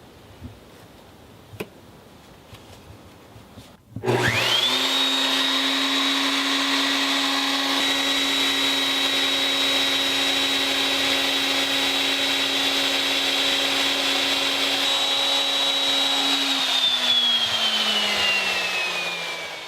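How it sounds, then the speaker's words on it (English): Power drill boring a tough hole through a piece of wood, spinning up abruptly after a few quiet seconds into a loud sustained whine with a steady high tone, then winding down near the end. "One of the tougher holes that you can drill in any piece of wood."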